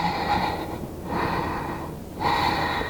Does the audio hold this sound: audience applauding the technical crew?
no